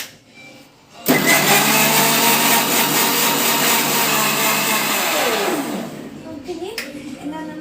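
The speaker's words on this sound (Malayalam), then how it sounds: "നമ്മളുടെ മിക്സിയിലാക്കി ചേർക്കാം" An electric mixer grinder starts suddenly and runs at a loud, steady whir while blending ingredients, then winds down with a falling pitch before quieter handling sounds.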